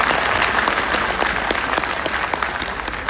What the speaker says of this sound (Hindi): अगर आपकी अनुमति हो तो एक बार तालियां बजा के मुझे बताइएगा